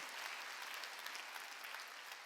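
A church congregation claps steadily at a Wednesday worship service, a faint, even wash of applause held for a couple of seconds with no break.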